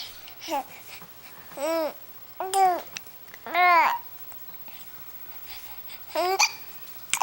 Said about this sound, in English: You got so excited, the hiccups started